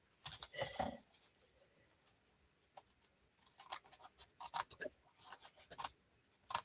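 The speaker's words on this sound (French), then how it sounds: "Je vais aller découper les surplus." Scissors snipping off excess material, a few close crisp cuts at first, then a pause and a denser run of short irregular snips, quiet and unaccompanied by talk.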